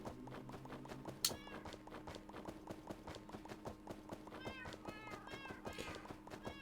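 Minecraft cats meow repeatedly in a game cat cafe, short high mews popping up several times over a busy background of footsteps and game noise, fairly faint overall.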